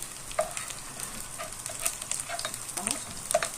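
Chopped onion sizzles and crackles steadily in a hot pan while being sautéed, with scattered pops and soft scraping, close and moderately loud, no voices.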